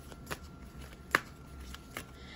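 A deck of oracle cards is shuffled softly by hand, with faint riffling flicks and one sharper snap over a quiet room.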